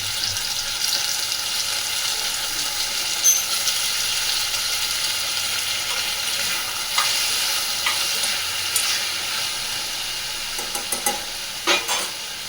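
Onion, tomato and potatoes frying together in oil, a constant hissing sizzle with occasional stirring clatter and a few sharper knocks near the end.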